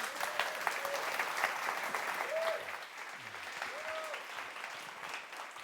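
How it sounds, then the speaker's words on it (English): Audience at a community conference closing plenary applauding a youth project founder, a sustained even wash of clapping from a large crowd lasting several seconds, with faint voices mixed in. "Give Daniel a round of applause."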